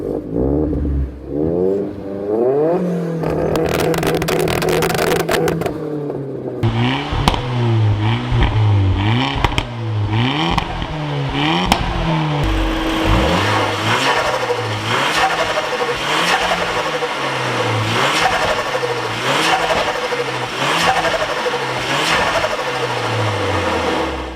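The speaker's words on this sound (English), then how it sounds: "we'll start with what a fast car should sound like." A fast car's engine revs hard again and again, climbing through repeated sweeping accelerations and brief drops. It sounds loud and close, with no talking.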